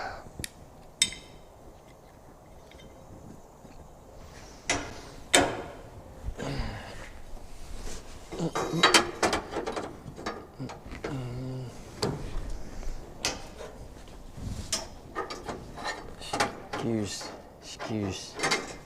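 A small clamp is set and tightened on a seat back brace for a 1967 Chevelle: scattered clicks, ratcheting turns and metallic knocks of varying loudness, close by, with background sounds between.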